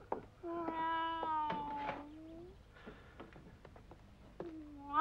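A cartoon cat gives a long, wavering, drawn-out meow close up. Short rustling sounds follow, and then a second meow begins near the end.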